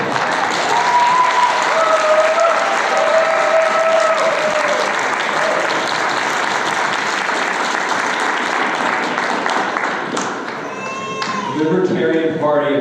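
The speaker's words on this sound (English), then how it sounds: "Please give him a round of applause." Sustained, loud applause from a convention crowd at a Libertarian Party of Tennessee event, steady dense clapping for a speaker that thins slightly near the end, with voices and some cheering breaking through.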